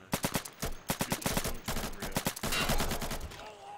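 Rapid bursts of gunfire in the tactical shooter Insurgency, a string of sharp, loud cracks in quick succession, with a sniper rifle among the shots, close and dense with echoing tails and no talk.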